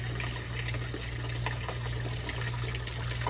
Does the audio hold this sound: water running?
yes